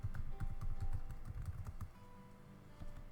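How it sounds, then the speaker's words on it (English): Quick bursts of keystrokes on a computer keyboard, close and quiet, a rapid run of clicks that slows and stops partway through, leaving faint room tone. "I would just type infographic"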